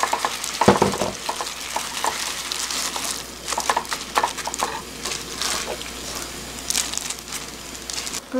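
Beef bulgogi sizzles and crackles in a hot stainless steel pan while a utensil scrapes and stirs it, with irregular clinks and rustles throughout.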